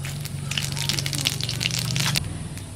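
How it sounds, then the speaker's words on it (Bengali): Dried red chilies and panch phoron tempering in hot mustard oil, a dense crackling sizzle with sharp pops throughout, close and steady, with no voices. "সর্ষের তেল, ফোড়ন দেব শুকনো লঙ্কা, আর দেব পাঁচফোড়ন।"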